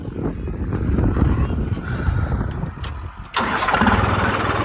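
A tractor engine cranks and catches to power a laser land leveler, a rough mid-pitched rumble that jumps louder and fuller partway through and keeps running steadily, close by with no talk.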